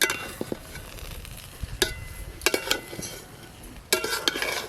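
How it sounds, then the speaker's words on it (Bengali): A spoon scrapes and clinks against a pot while pulao with cashews and raisins is stirred, soft sizzling underneath, with several sharp metallic knocks spaced irregularly, close and fairly quiet. "এবার সব কিছু একসঙ্গে ভালো করে মিশিয়ে নেব।"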